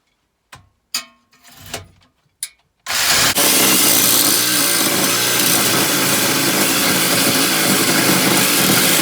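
An Evolution cordless reciprocating saw, battery loosened by vibration, opens with a few short scrapes and knocks of the blade, then bursts into a loud, steady, buzzing cut through the workpiece that runs unbroken to the end.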